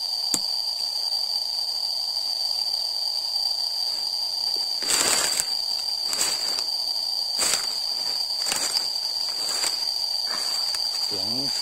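Cicadas in a forest: a steady high-pitched insect drone fills the air, broken by several short bursts of louder buzzing, with faint rustling underneath.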